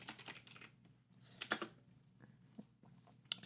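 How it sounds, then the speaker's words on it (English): Typing on a computer keyboard while writing a purge command for a Discord bot: a quick, irregular run of soft key clicks with a few sharper taps, close and fairly quiet, with no talk. "So we're gonna type function purge command"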